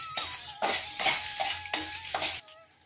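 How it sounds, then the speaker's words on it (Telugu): Dried red chillies frying in oil in a pan over a medium flame, with a utensil stirring and scraping in about six quick rhythmic bursts over a soft, steady sizzle, close up, with no talking. "సో మీడియం ఫ్లేమ్లో పెట్టుకొని ఇవి ఎండుమిర్చి అయితే దోరగా వేయించుకోండి"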